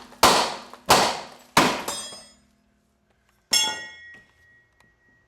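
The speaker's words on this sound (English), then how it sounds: "We get that out of there by using Mr. Ugly Hammer" A heavy hammer strikes a Jeep Grand Cherokee steering linkage four times in a quick series, then once more after a pause, each loud metallic blow ringing briefly.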